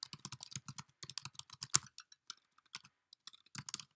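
Quick, uneven keystrokes tapping on a computer keyboard, close and fairly quiet, in irregular bursts with brief pauses and one sharper clack partway through.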